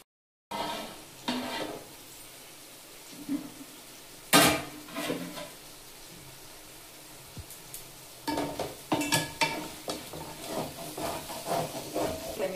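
Tomatoes cooking down in a pan for chicken curry, a low simmering hiss broken by sporadic stirring scrapes and clanks of utensil on pan, with a busier run of stirring toward the end, close and without speech.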